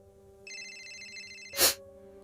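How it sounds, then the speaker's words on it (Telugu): A phone rings nearby with a clean electronic ringtone of steady, layered tones for about a second, then breaks off with a short, sharp noise burst over a quiet background hum. "అంతలో ఆమె ఫోన్ మోగింది."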